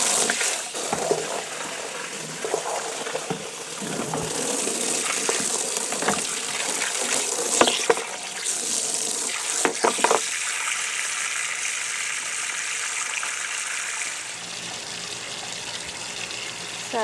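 Water gushes steadily from an outdoor tap into tubs used for scouring raw wool, a constant splashing rush with a few knocks and clatters, with no voices.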